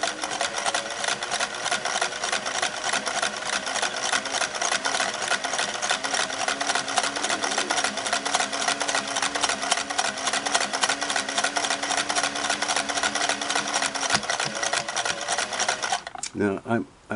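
A Singer Slant-O-Matic 403A sewing machine fitted with a monogrammer runs steadily while stitching fabric, a fast buzzing whir with a rapid mechanical patter that holds constant and then stops abruptly near the end.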